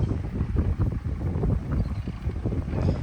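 Strong wind gusts buffet the microphone, producing a loud, low rumbling roar that rises and falls with no talking.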